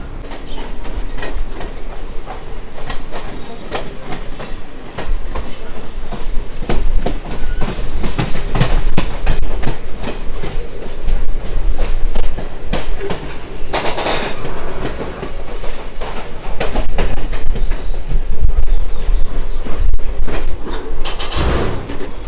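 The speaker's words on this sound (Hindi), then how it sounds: "हमारी ट्रेन निकलती चली जा रही है।" A passenger train rolls steadily along the rail line near Rupnagar in Punjab, with loud continuous rumble and rapid clickety-clack of wheels over rail joints throughout, close and unbroken.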